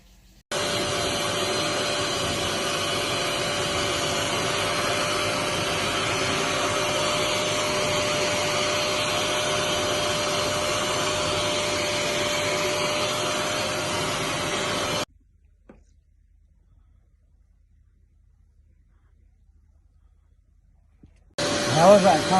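A small upholstery spotter extraction machine runs with a loud, steady whine for about fifteen seconds, then cuts to near silence before starting up again abruptly at the end.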